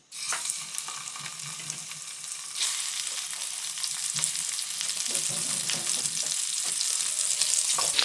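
Chicken and spices fry in onion-flavoured oil for a home-style chicken biryani, a steady close sizzle that jumps louder a few seconds in and continues with faint stirring clinks.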